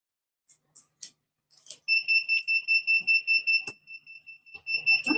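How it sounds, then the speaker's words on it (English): A timer alarm goes off while custom coasters are being made, giving a loud, steady run of rapid high-pitched beeps that carries on without a break, with a few soft knocks just before it starts. "All right, there's our timer."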